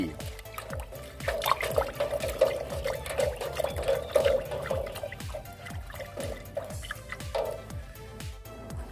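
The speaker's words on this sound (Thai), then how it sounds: "แล้วเรานำไปผสมน้ำเพิ่ม โดยการใส่บัวลดน้ำหรือถังน้ำก็ได้ครับ" Water added to a homemade fertilizer mix from kitchen leftovers in a watering can or bucket, heard as close, repeated drips and splashy trickles at an uneven pace.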